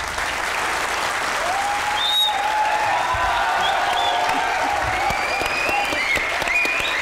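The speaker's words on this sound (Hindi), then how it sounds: "जरा तालियां बजाएं।" Steady, full applause from a large audience, dense clapping that holds at an even level throughout without letting up.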